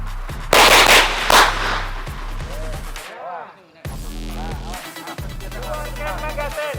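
A Salient Arms International (SAI) pistol fires two loud, sharp shots close by at a shooting practice, followed by voices talking nearby.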